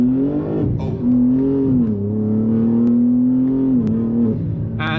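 A BMW M3 sedan accelerates hard from a standstill to 100, its engine note climbing steadily with a sharp dip and recovery at each gear change, loud and close throughout with no talking.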